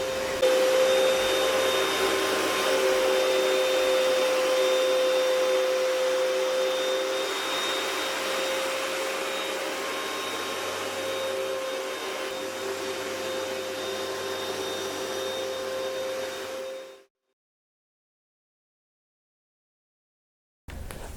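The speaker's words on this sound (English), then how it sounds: "this little carpet cleaner, it does an outstanding job" A small portable carpet cleaner runs its suction motor with a steady, loud whine and a constant high tone for about seventeen seconds, then cuts off abruptly into silence.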